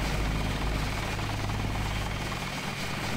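Helicopter in the video game Deus Ex, a loud, continuous rotor drone with a throbbing low-end pulse, steady and close with no talk over it.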